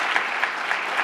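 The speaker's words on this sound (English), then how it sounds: "So a big round of applause for Agnès." Audience applause at a sustainability event at EPFL, a dense, steady burst of many hands clapping at close range, filling the moment without any talk.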